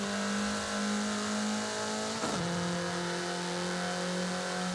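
A car driven fast in Forza Horizon 5, its engine holding a steady high drone with a brief shift or dip in pitch midway, loud and continuous with no talk.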